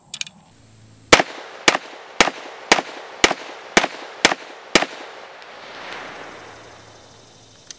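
Eight sharp, loud gunshots from a Stribog SP9A3 delayed roller lock 9mm pistol, fired in a fairly even rhythm about half a second apart, with brief echoes trailing off after the last shot.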